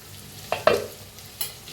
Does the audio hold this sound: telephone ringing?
no